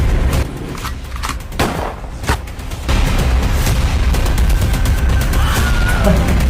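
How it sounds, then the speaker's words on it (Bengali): Comedy spoof gunfire comes as a sharp cluster of sharp, loud shots in the first few seconds. A dense, sustained rumble of continuous firing and booming follows. "গুলি করে দিল।"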